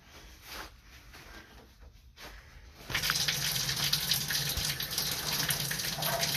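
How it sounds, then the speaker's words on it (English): Water runs from a bathroom sink tap and a utility sink tap, starting as a quieter flow and then swelling into a loud, steady gushing rush close by that continues to the end, no talk. "I got the bathroom sink running, I got the utility sink running."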